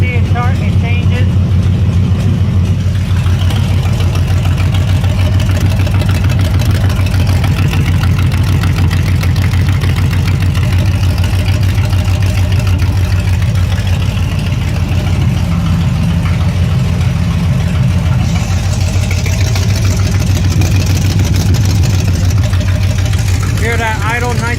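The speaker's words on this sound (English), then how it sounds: "Hear that idle nice and smooth." A Big Block 7.4L 454 V8 in a 1974 Chevy Nova idles steadily and loudly with a deep, even rumble throughout, close up, as someone talks over it.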